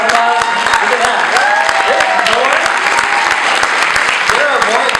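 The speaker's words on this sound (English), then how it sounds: "Let's give them a big round of applause." A loud, dense round of applause from a crowd at a corporate regional event in Hawaii, steady and continuous throughout, with a few voices calling out over the clapping.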